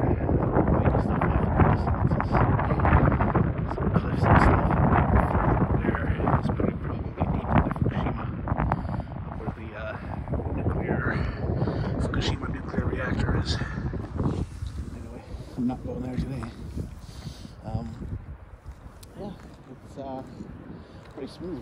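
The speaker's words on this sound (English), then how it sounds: "It's a bit windy." Steady wind gusts buffet the microphone outdoors on a beach on the Ibaraki coast of Japan in February, a rough constant roar that eases slightly toward the end.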